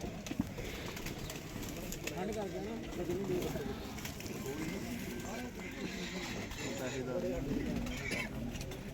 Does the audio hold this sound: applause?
no